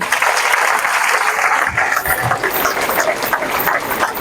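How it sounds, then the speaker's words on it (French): A school-year opening audience applauds the prefect brother, a dense continuous burst of clapping with a low engine-like rumble underneath, fairly loud and close. "Voilà, le frère préfet, applaudissez pour lui."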